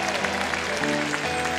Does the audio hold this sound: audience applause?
yes